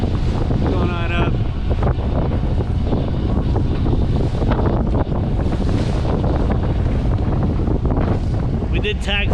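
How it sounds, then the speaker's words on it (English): Strong gusting wind buffets the microphone on a sailboat on the Potomac River in worsening rough water, a loud continuous roar with waves slapping beneath, and brief voices come through. "the sea states have gotten significantly worse and the wind as well"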